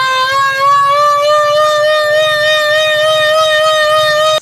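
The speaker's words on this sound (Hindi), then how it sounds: "ये चेक करें, ये सायरन चल रहा है आजकल" An old civil defense siren in Punjab wails in a steady, loud, sustained tone with rich harmonics, rising slightly and holding nearly level before cutting off abruptly at the end.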